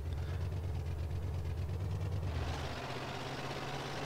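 A Barkas van's engine idling in the video game MTA, a steady low throbbing hum that holds evenly throughout, with a slight change in tone partway through and no talk over it.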